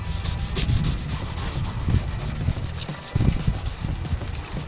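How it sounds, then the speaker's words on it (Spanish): Steady hand sanding of car paint with sandpaper under light pressure, a continuous dry scratchy rubbing with rhythmic back-and-forth strokes at close range, no talking. "simplemente estoy pasando la lija por encima"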